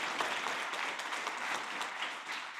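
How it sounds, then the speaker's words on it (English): An audience applauds student teams at a regional student startup challenge, a steady, even wash of clapping from a crowd heard alone for a few seconds. "Round of applause for all the amazing teams."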